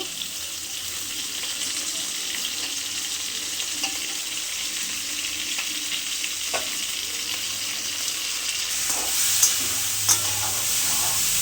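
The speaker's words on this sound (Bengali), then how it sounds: "আগে ফুলকপিগুলো ভেজে নেবো, তারপরে এই সবজিগুলো দেবো আস্তে আস্তে" Cauliflower florets, beans, carrot and capsicum fry in a pan of oil for mixed dal, making a constant close sizzle broken by scraping stirs and a few louder clacks near the end, with no talking.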